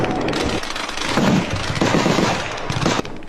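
Rapid bursts of gunfire crackle along the India–Pakistan border, loud dense volleys of automatic shots that pause briefly and resume, with a sharp cutoff near the end.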